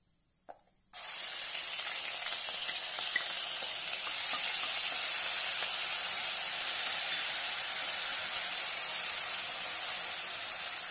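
Onion paste sautéed in a pan gives off a loud, steady sizzle for about ten seconds, starting abruptly after a short quiet moment and continuing without pause.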